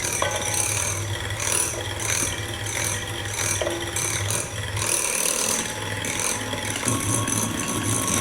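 Eggs and powdered sugar are beaten for fudgy brownie batter, a continuous close mechanical whir with a scraping, rattling texture that runs steadily throughout.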